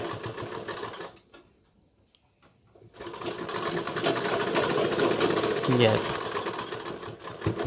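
A sewing machine runs while a blouse is stitched at home, starting with a short burst, pausing in near silence, then a long steady whir of rapid stitching close by, with someone talking over it.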